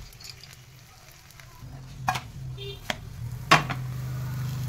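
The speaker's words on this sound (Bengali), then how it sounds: "আমার এই তাওয়াটা গরম হয়ে গেছে, আমার এই পরোটাটা রেডি হয়ে গেছে। আমি দিয়ে দেবো" Paratha frying on a hot tawa over low flame, a steady low sizzle with a few sharp clinks and scrapes of utensils on the pan scattered through it.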